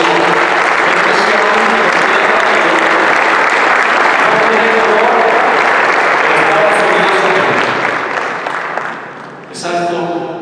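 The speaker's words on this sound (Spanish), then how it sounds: "Un aplauso para todos ustedes que creen en esa visión" Sustained loud applause from an American Society audience at an event with the US Ambassador, dense clapping filling most of the stretch before tapering, with a few voices underneath near the end.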